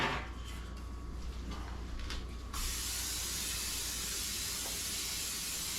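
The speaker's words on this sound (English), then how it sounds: "So we're gonna spray." After a few faint clicks and rattles, a can of Pam cooking spray releases a sudden, steady hiss of spray that continues evenly to the end.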